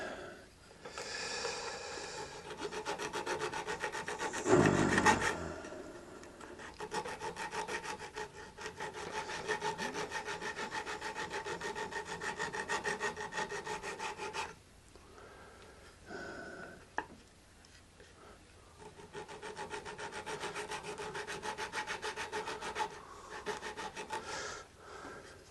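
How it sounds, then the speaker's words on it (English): Slow hand-filing on a wooden guitar headstock inlay in a quiet workshop, steady rasping strokes repeating close by for most of the stretch, with a couple of brief pauses. "It needs a considerable amount of filing."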